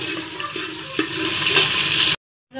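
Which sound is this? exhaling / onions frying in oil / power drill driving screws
onions frying in oil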